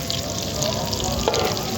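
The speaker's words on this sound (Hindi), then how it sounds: "कितने प्यारे ये फ्राई हो रहे हैं" Chicken potato rolls fry in oil over low heat, giving a steady close hiss and sizzle across the whole short moment, with a faint clink near the end and no talking.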